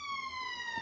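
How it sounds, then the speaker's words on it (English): An ambulance siren holds a steady, high, sustained wail that drifts slightly downward in pitch as the vehicle passes, heard at moderate distance with no voices over it. "noise you hear is an ambulance going past, if you can hear it."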